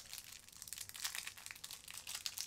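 Foil wrapper of a basketball card hanger box pack being torn open, close crinkling and ripping in quick irregular bursts, fairly faint, with no talk.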